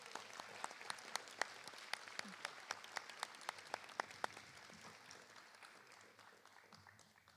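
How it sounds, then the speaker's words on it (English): Scattered applause for honors choir students at a school board meeting: a handful of distinct, crisp claps at a fairly regular pace, faint and roomy, thinning out into quiet room noise toward the end. "Let's give these students a round of applause."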